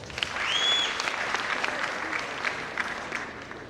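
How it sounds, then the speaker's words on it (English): Audience applause at a youth forum on election monitoring, a steady wash of clapping at moderate level, with faint background voices mixed in. "we need to give ourselves a big round of applause"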